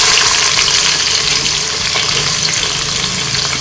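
Sliced onions hit hot frying oil for a chicken biryani, giving a loud, steady broadband sizzle that holds without a break through the whole stretch.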